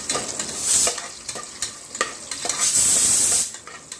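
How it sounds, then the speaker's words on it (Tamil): Shallots sautéing in a hot pan with fennel, cashews and raisins, loud close sizzling and scraping stirs in irregular bursts, with no talking. "சாம்பார் வெங்காயம் மட்டும் தனியாக அது கூட சேர்த்து வதக்கணும்."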